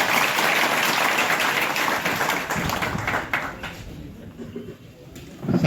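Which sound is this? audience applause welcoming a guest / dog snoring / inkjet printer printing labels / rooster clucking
audience applause welcoming a guest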